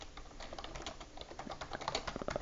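Rapid typing on a computer keyboard during a Type Racer game, a dense steady patter of close clicking keystrokes with no voice.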